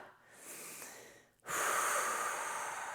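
Steady breathing during a seated chair yoga session, a soft airy inhale building then easing off, followed after a brief pause by a louder, sustained exhale close to the microphone.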